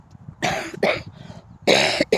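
Several harsh, close coughs in quick bursts, a cluster of two or three followed by a pause and another heavy cough.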